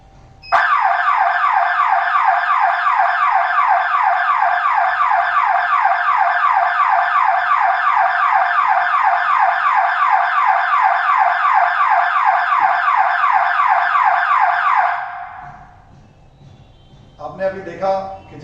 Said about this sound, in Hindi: अभी मैंने सेटिंग कर रखी है कि इस कैमरा के सामने कोई भी ह्यूमन आए तो ये अलार्म बजे।